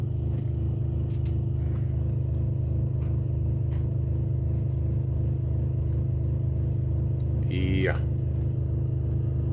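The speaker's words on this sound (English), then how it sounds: "I got the generator at about half throttle." A generator running at about half throttle while carrying roughly 50 amps, giving a loud, steady, even drone close by that never changes, with a brief single spoken word and a short scrape near the end.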